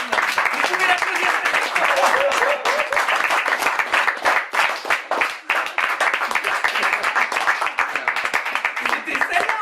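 Loud, dense applause from an audience at a burlesque close-up magic show, many hands clapping together in a sustained, close burst with a brief dip midway before continuing.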